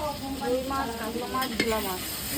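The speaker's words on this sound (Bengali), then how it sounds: "এখানে কিন্তু কড়াই রেডি আর এখন কিন্তু রান্না করবে ভোলা মাছ" Bhola fish frying in a kadai over a gas flame, a steady close sizzle with stirring scrapes throughout, loud and continuous with no talk.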